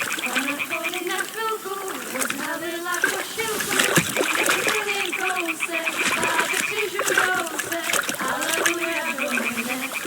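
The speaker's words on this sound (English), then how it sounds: "Throw a stone in the water near her to lure her away." A thrown stone splashes into water in Kingdom Come: Deliverance II, a brief watery splash heard amid steady overlapping talk and background sounds.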